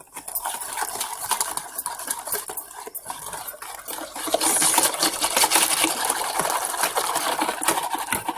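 Cake batter of eggs, sugar, oil and milk being mixed briskly in a bowl, a steady clattering whisk or spoon scraping and tapping throughout, growing busier and louder in the second half, with no talking.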